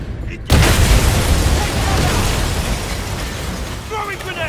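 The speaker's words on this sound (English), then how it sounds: "Throwing grenade!" A thrown grenade in a James Bond 007 shooter detonates with a sudden loud boom, followed by a long rumbling, debris-filled decay, with shouted voices faintly around it.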